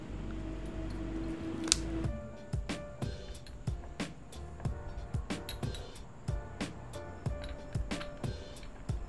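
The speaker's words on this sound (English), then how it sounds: "Gonna crack open these brand new brake pads." New Ducati Monster motorcycle brake pads are unpacked. A short rustle is followed by a steady series of crisp clicks and crinkles from the packaging, close and fairly quiet, with no talking.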